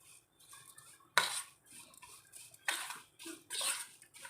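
Lemon pickle ingredients with salt are mixed in a bowl, giving soft, close scraping and clinking of a spoon against the dish in irregular bursts, several sharper knocks standing out, with no talking.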